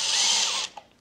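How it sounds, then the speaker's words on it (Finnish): A power drill whines steadily as it bores into a car bumper for about half a second, then stops abruptly with a small click after. "Pikkusen tuntuu pahalle porata tuohon puskuriin"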